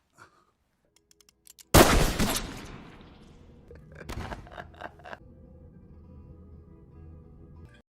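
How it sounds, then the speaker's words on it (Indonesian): Gunfire in a film scene: one sharp, loud shot rings out, followed by a brief burst of further cracks and reverberating clatter that fade into a quiet, low background. "Dia tertawa dan menembak."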